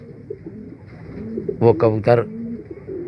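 Feeke Baajre pigeons on a rooftop coo softly in the background while someone speaks briefly in the middle.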